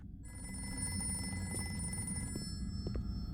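A telephone rings in the video game The Dungeon Experience. The tone is steady and electronic, with sustained tonal lines and a few faint clicks over a low hum. The ring continues throughout, with no voices.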